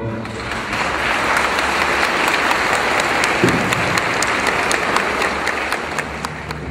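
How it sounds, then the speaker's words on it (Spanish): Outdoor crowd applause for the hosts of a festival in Otavalo, a steady wash of clapping with a busy public din underneath, holding at even loudness for several seconds before easing slightly. "pido a todo el público otavaleño un fuerte aplauso para ellos"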